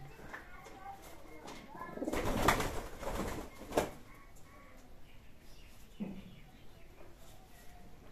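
Soft cooing from a racer pigeon being held, with a louder burst of handling noise midway, low and close, against a faint steady background.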